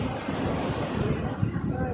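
Wind blowing by the sea, a steady, close, broadband rush with soft surf-like roar and buffeting on the microphone that runs the whole time without pause.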